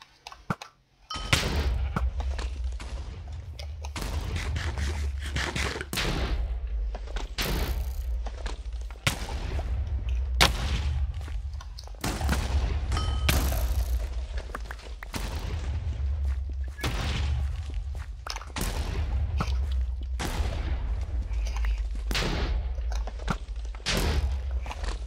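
Rapid bursts of Minecraft bow shots during a Lucky Block Wars match, a dense run of sharp snapping thwacks repeating steadily for the whole stretch over a low rumbling game bed, loud and close.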